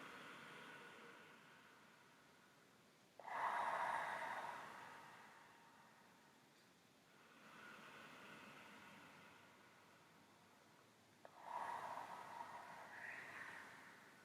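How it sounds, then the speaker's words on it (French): Slow, deep breaths drawn in and let out during a breathing exercise for the lungs and upper body, each long airy swell rising and fading in steady alternation, close and fairly quiet. "J'inspire, j'expire, j'inspire, j'expire."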